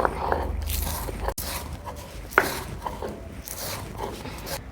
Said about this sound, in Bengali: এখানে আমি ভাজা মশলাগুলো গুঁড়ো করে নেব।